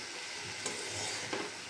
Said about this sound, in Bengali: এবার একটু ভাজা ভাজা করে নেব।